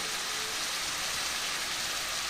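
Pointed gourd (potol) fries in a pan with a little grated ginger, giving off a steady, soft, hissing sizzle close by.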